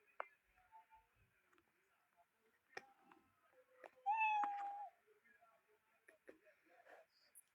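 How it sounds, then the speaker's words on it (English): A cat-like meow from a Scratch programming project plays once, clear and fairly loud over quiet background ticks and faint clicks, with a brief trailing tone. "So let's make it produce a sound. The meow should do it."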